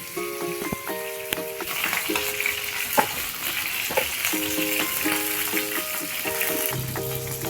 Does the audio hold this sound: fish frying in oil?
yes